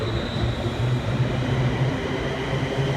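A train departing Stoke-on-Trent station for Crewe, a steady low rumble and hum of the passing train with a faint high whine, continuous and fairly close, with no voices.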